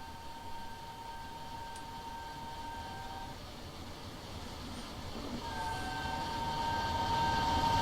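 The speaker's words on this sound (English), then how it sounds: "I hear a steam train" A steam train in Train Simulator 2016 on the London to Brighton route, heard as a faint distant rumble and hiss with steady tonal whine, gradually swelling louder as it approaches.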